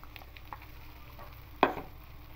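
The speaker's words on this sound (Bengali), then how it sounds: "খুব ভালো করে কষিয়ে নিচ্ছি আদা রসুন বাটা আর পেঁয়াজ পেস্টের সঙ্গে" Ginger, garlic and onion paste frying in oil with cashew, poppy seed and yogurt paste for a yogurt catla fish curry, soft sizzling under quiet stirring scrapes, then one sharp louder clatter near the end.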